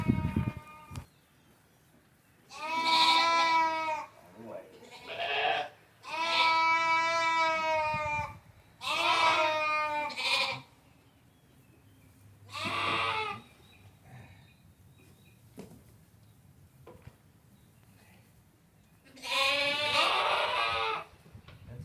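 Just-weaned, bottle-fed lambs bleat loudly and insistently, several drawn-out cries in separate bursts with quiet gaps between them, close by.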